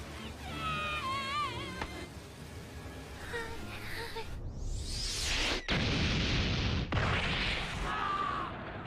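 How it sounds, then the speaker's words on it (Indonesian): An anime bullet bursts right in a character's face with a sudden loud blast and a sweeping whoosh, followed by sharp cracks and a rumbling tail, mixed with dramatic music and effects. "tiba-tiba saja sebuah peluru meledak tepat di wajah Oven."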